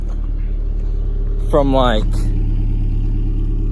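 Steady low exhaust drone from an idling 2008 Subaru Impreza fitted with an aftermarket DNA Motoring exhaust, an even rumble that runs throughout while a person speaks briefly over it midway.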